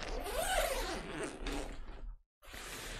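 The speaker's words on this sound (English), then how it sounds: "But I can't find the zipper to open this." A zipper is drawn open on a monopod bag holding lights, a long close rasping pull that stops briefly and then resumes.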